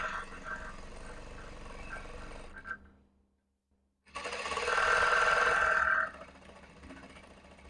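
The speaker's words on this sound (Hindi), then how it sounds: "इस तरीके से पकड़ के अच्छे से आप इसको सिलाई लगा लो ½ इंच का मार्जिन लेके" A sewing machine runs along a salwar seam with a half-inch margin, a close steady whirring that stops for about a second and a half, then resumes louder before easing to a lighter hum.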